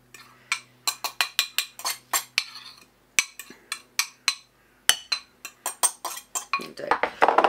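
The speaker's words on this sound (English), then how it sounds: "Then stir all this up, and it will be a sticky mixture." A spoon scrapes and clinks against a bowl while stirring a beef mixture, giving a quick run of bright, rhythmic clinks close by with short pauses between bursts.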